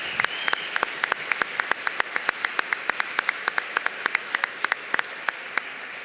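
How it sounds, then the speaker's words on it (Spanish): A light, scattered applause rises from an audience at a book presentation during the Buenos Aires book fair. Distinct individual claps sound at a moderate distance, fairly sparse and even, with no talking over them. "Un fuerte aplauso para ellos."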